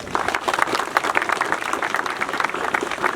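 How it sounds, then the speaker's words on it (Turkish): An audience applauds forestry workers at a gathering held in Şanlıurfa, a steady dense wash of many hands clapping close and loud throughout, with a faint voice murmuring beneath. "Bir alkışlayalım onları."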